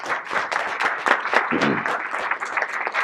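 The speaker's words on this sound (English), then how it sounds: "let's clap it up for the students again, everybody" An audience applauds students with dense, sustained clapping that fills the room at close range, while a voice is briefly heard over it.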